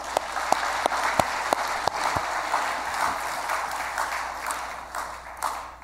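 Congregation applause during a Korean church service, with several sharp, distinct claps standing out early over a steady bed of clapping that gradually thins out.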